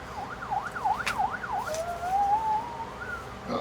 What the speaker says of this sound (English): That sounds like somebody's horn that they put a siren on